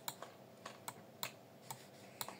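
Typing on a budget computer keyboard priced around 30 euros: a sparse, irregular run of crisp, quiet keystroke clicks heard alone at close range with no talk.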